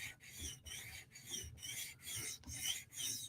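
A knife is drawn across sharpening stones on a TSProf Kadet sharpener, making a steady rhythm of close, quiet raspy strokes, about seven evenly spaced passes.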